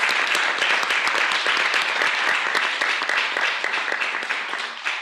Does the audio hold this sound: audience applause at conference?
yes